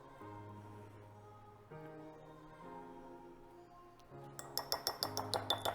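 Powdered sugar and eggnog are whisked into a glaze in a bowl, heard as a faint run of quick, rhythmic clinks near the end, preceded by a soft steady tonal hum.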